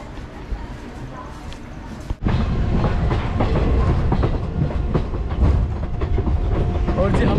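A passenger train rolls along the rails with steady rumbling and rhythmic clickety-clack from the carriage, loud and close throughout, with faint voices in the background.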